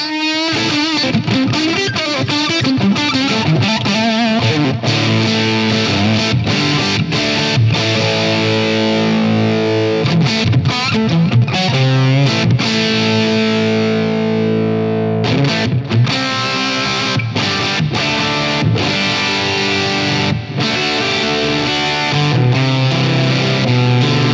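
Heavily fuzzed electric guitar through a fuzz pedal playing loud sustained chords and riffs, thick and saturated, with no voices.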